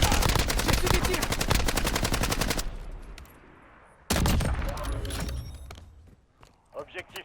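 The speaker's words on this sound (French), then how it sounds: "J'ai fait des tirs." Bursts of automatic gunfire in the shooter game Warzone, dense rapid shots that cut off abruptly, then a short quieter gap before another loud volley and a few scattered clanks.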